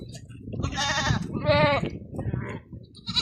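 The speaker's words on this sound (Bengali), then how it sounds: "এত সুন্দর সৌদি আরবের ছাগল।" Goats on a Saudi Arabian farm bleat in two loud, wavering calls close by, followed by a softer bleat and the start of another, with shuffling noise underneath.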